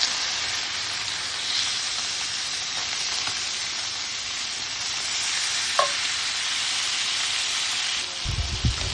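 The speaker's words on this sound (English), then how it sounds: "flip over our steak and cook for an additional 2 minutes" A steak sears in a hot pan with a steady, loud sizzle that holds for the whole stretch, with a brief clink of contact partway through and a few low knocks near the end.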